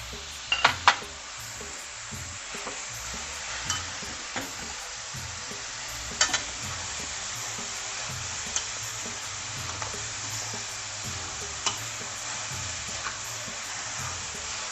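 A carrot barfi mixture with grated coconut and sugar stirred in a pan, with a steady sizzling hiss and occasional soft scrapes and clinks of the spoon against the pan, heard alone.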